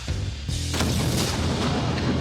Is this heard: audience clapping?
no